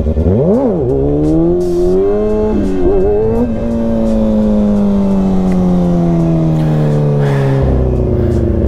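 A Kawasaki ZX-6R sport motorcycle engine during wheelie practice revs loudly up close, with quick throttle blips rising and falling, then a long sustained pull as the pitch climbs steadily.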